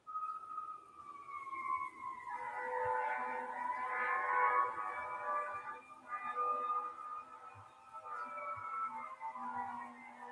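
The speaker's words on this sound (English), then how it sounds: "I just heard the sirens. I don't know about anybody else. Sounds like they've gone past" Emergency sirens, likely fire engines heading to a nearby fire, wail as they pass a home, rising and falling in long sweeping tones that swell and then fade over several seconds, fairly faint and distant, with no talking.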